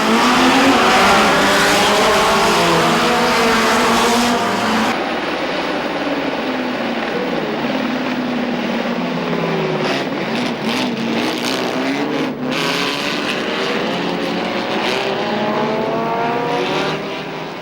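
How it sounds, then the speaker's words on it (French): A 1958 Lotus 15 sports racing car arrives at a bend during a historic race, its engine note climbing and sweeping through rising gear changes, loud and close, then shifting pitch as it passes by. "La voici qui arrive au virage du Faille en 4e position devant une Lola MK2"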